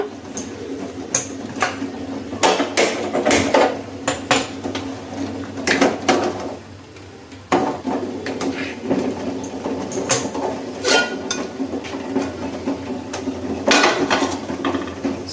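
A cooking pot is set down and handled on the stove while an oil-free egg curry is prepared, giving repeated close metallic clanks and knocks with no talking.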